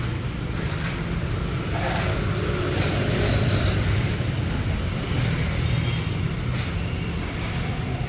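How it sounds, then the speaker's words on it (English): A tour bus rumbles past on a busy street in Da Nang, Vietnam, a low steady engine drone mixed with general traffic noise at moderate distance. "Yeah, that's definitely a tour bus."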